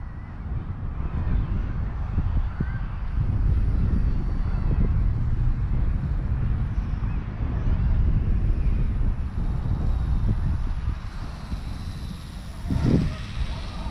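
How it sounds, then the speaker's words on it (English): A WLToys XK A220 P-40 Warhawk micro RC warbird drones steadily overhead with wind buffeting the microphone, its engine whine rising and fading as it passes. "looks really good in the air."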